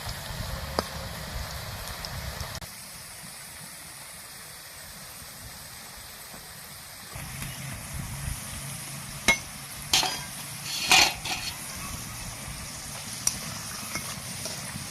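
Spring chips made from potato deep-frying in hot oil, a continuous close bubbling sizzle that shifts in level partway through, broken by a few sharp scraping and clinking stirs near the end.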